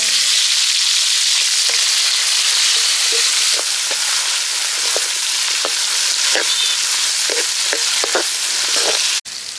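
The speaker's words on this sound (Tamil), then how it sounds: "வெங்காயம், பச்சை மிளகாய், தக்காளி 3த்தையும் மீன் குழம்புக்கு தேவையானதை போட்டுக்கலாம்." Onion, green chilli and tomato hitting hot oil for a village-style fish curry, a loud, steady hiss of frying close up with scattered taps of stirring, cutting off abruptly near the end.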